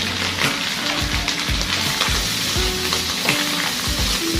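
Pork lungs sautéing for bopis give a loud, steady close sizzle, broken by repeated scraping stirs of a utensil against the pan.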